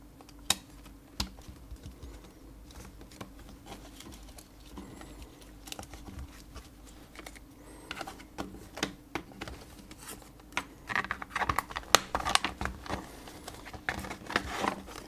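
Buttons on a freshly reassembled homemade gamepad click faintly and rapidly in irregular bursts, close to the mic, growing busier and louder toward the end, with no talk.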